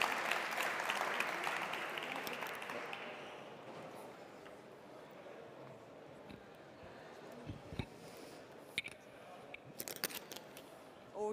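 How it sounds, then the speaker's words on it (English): An audience applauds a speaker at a startup night event, the clapping loud at first and then thinning to scattered claps and clicks in a quiet room. "So give her a warm round of applause"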